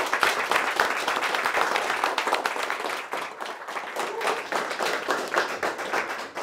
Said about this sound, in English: We're going to give a big warm Startup Grind round of applause for Rick and Pozible.